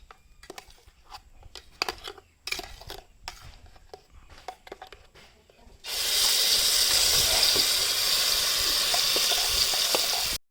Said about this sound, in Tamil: நம்ம பலாப்பழத்தை போட்டு வறுத்துக்கிறோம்